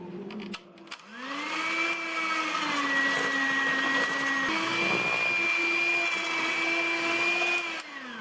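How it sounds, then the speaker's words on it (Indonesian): An electric hand mixer beats choux pastry dough after the third egg is added, giving one steady whirring drone that holds for about seven seconds and then winds down, close and alone. "Terakhir telurnya saya masukin. Ini telur yang ketiga. Selanjutnya kita mixer."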